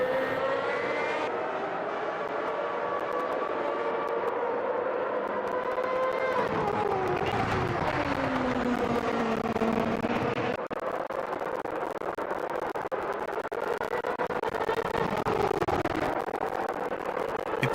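A loud V10 race car engine in the racing game Automobilista 2 roars continuously with shifting pitch as it revs up and down through gears, dense and sustained throughout.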